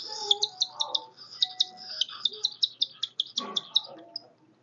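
A pet parrot being hand-fed gives a rapid series of sharp, bright chirps, about fifteen in a row, close and fairly loud, with a few softer low sounds underneath.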